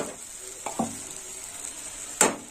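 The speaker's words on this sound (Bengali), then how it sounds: "ডালটা আমি একটু কষে নেবো," Moong dal fries in a pan, with a steady hiss of sizzling throughout and a few short scraping stirs, one louder near the end.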